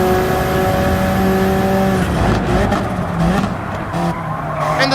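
A car driven in Gran Turismo 7 on PS5 revs hard with a loud, close engine note that rises and falls through gear shifts, and tire squeal and skidding mix in as it corners.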